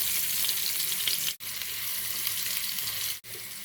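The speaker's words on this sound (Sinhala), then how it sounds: "හාල්මැස් ටික බැදගත්තු තෙල් එකටම කපාගත්තු සුදු ලුණු ටිකක් එකතු කරමු" Chopped garlic frying in the oil left from frying dried sprats for pol sambol, a dense, even close sizzle with two short breaks where the sound drops out, no talk.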